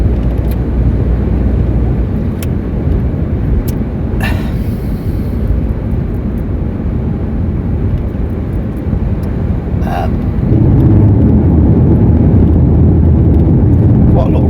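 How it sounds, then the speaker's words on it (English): Steady road roar fills the cabin of a 2019 Renault Megane Iconic Sport Tourer estate on the move, a loud continuous low rumble that swells near the end, with a voice talking over it. "Quite a lot of road noise."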